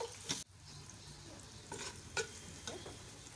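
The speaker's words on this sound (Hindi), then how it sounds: "अब इसमें मैं ये प्याज डालूंगी।" Onion dropped into hot oil for an aloo baingan sabzi, a soft steady sizzle with a few scraping stirs of a spoon in the pan, quiet and close, with no voices.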